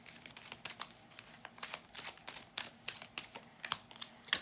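Cards shuffled for a pick-a-card reading give a dense run of crisp riffling clicks and papery crinkles, repeating in quick bursts at close range with no talking.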